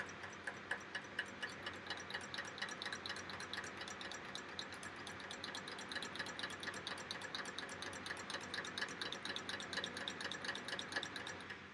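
A serger sewing machine chaining off the end of a fabric edge, running with a fast, even mechanical ticking and whirr, close and steady throughout with no speech.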